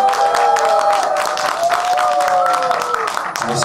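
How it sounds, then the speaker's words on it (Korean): Steady applause from a concert audience fills the space, a dense wash of clapping with musical tones sounding underneath. "박수 주세요"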